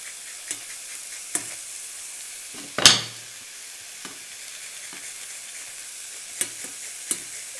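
Onions frying in a pan while being seasoned with nutmeg for liver dumplings, giving a soft steady sizzle broken by light utensil taps and one louder scrape or clatter near the middle.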